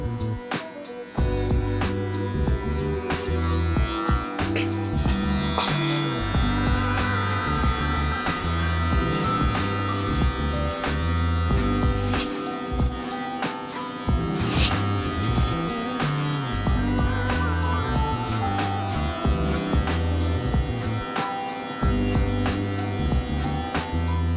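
Electric hair clippers buzz steadily while cutting a man's hair at home, blending the shelf between longer hair on top and shorter sides; a loud, continuous close hum with small shifts in pitch as the blade moves.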